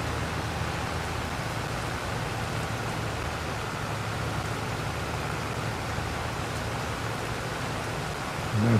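Rain in the farming game Farming Simulator 22, a steady soft hiss of falling water with a faint low rumble beneath, continuous and even throughout.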